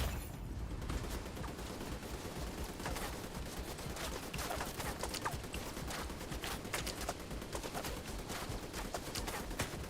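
Sustained video game gunfire rattles on for the whole stretch, dense bursts of automatic shots with sharp individual cracks standing out, loud and continuous with no speech over it.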